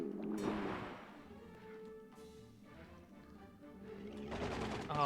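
Faint video-game gunfire: a couple of soft bursts of shots that come and go over quiet background game sound, with no talking.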